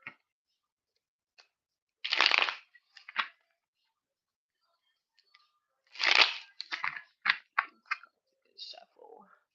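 Tarot cards are shuffled in a few short bursts of riffling and snapping, close and crisp, separated by quiet pauses.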